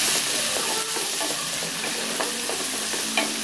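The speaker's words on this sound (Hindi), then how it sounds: "प्याज डाल देती हूँ।" Chopped onion hitting a hot pan and frying, a loud, dense sizzle running without a break, with a few faint scrapes of stirring; no voices.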